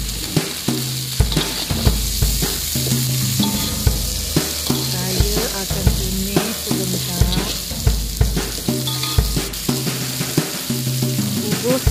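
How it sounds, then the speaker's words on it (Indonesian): Water spinach stems stir-fried in a hot pan give a steady, loud sizzle. A spatula scrapes and clatters against the pan in a regular rhythm throughout, with no talking. "Sekarang saya akan masukkan batang sayur kangkung dahulu."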